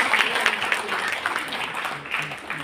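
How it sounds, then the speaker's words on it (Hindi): Audience applause fills a Hindi-language public gathering, a dense, steady patter of many hands clapping with voices mixed in underneath. "उस जनता के लिए जोरदार तालियां तो बनती है।"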